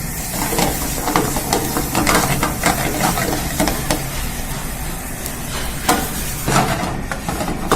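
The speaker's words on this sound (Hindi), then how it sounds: "50 ग्राम बटर में हमने इसे टोस्ट कर लेना है।" Kunafa dough toasting in about 50 grams of butter in a pan: a steady hiss and sizzle with repeated stirring clicks and scrapes, moderately loud and close, with no talk.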